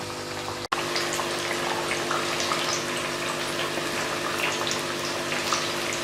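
Potatoes and eggplant fry in hot oil in a pan with a steady, dense crackling sizzle that is loud and close, broken by one brief dropout near the start.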